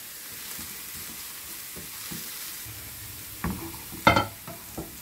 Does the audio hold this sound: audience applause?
no